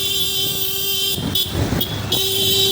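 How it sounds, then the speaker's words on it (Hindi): A child's toy bike horn honks in a few short bursts outdoors, a steady electronic tone broken by brief louder toots, fairly loud and near. "अब बजाओ हॉर्न।"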